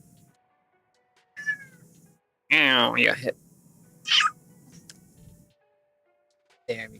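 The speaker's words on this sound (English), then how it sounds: "Hold on, the cat is in the way." A domestic cat named Bobby, held close to the chest, gives several separate meows, the loudest one strong and wavering, amid quiet room sounds, and a person briefly speaks in between.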